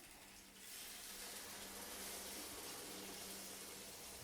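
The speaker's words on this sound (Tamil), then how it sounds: "தண்ணி இதில் 1/2 லிட்டர் அளவுக்கு ஊற்றிக்கலாம்." After a brief pause, about half a litre of water pours steadily into a pot of okra tamarind curry with a continuous rushing gush, close and fairly loud, no talking.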